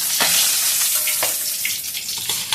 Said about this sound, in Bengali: মাছটাকে আমি ভালো করে ভেজে নেবো